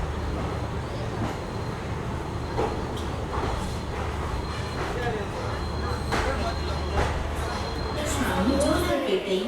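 A passenger train pulls into Salem Junction with a continuous low rumble and rattling wheels that swell slightly toward the end. Nearby voices can be heard over the noise.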